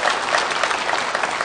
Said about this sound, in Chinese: 谢谢您再一次送上热情的掌声。